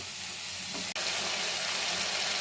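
Chicken masala with coriander, turmeric and Kashmiri chili powder sautés in a pan, a dense continuous sizzle with one sharp click partway through.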